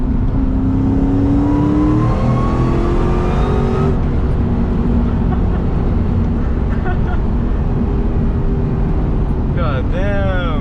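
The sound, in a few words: Terminator Mustang Cobra 700+ hp car accelerating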